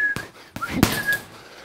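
A man whistles a few brief steady tones while practising punches, the whistle notes interrupted by sharp punch impacts and rustling movement nearby.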